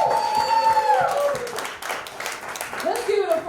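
Crowd at the Nuyorican Poets Cafe clapping for the poets at a slam night, a sustained burst of applause with voices calling and talking over it.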